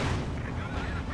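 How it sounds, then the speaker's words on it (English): Stuka dive bomber barrage in the Company of Heroes 2 video game, a dense roaring rumble of heavy explosions lasting about a second, loud and low, blending into one continuous blast with no talking over it. "Another Stuka barrage."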